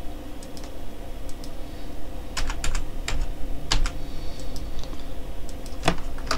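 Steady typing on a computer keyboard while Python class code is written, with quick key clicks and sharper taps at a close, even pace against a faint background hum.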